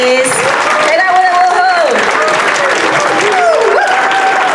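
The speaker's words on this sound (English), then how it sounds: "I want to give a big round of applause to Randy Adams" Loud, close applause from an audience honoring Yahoo co-founder Randy Adams, dense clapping mixed with high whooping and cheering voices that rise and fall throughout.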